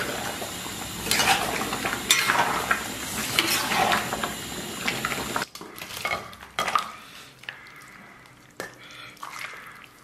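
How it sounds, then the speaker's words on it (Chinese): Tomatoes and green peppers stir-fried in a pan, a spatula clanking and scraping against the metal over a steady sizzle, then quieter scattered utensil clinks, close and without talk. "简单翻炒一下"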